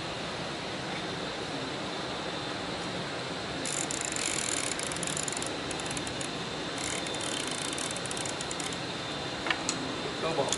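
A custom wrench ratchets in two bursts of quick, bright clicking, each lasting a second or two, over constant broadband background noise.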